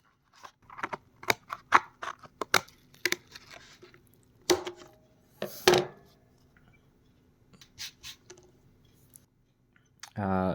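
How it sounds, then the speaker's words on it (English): Scissors cutting birch bark for a watch project, a series of sharp, crisp snips and crunchy cuts arriving in irregular bursts at close range, with quiet gaps between them and a brief clatter at the end. "So I'm just gonna cut this with scissors."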